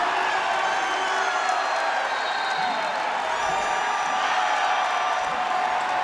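Women's basketball crowd at a Bowling Green home game erupts into sustained cheering, applause and whoops, a loud continuous roar with no letup across several seconds.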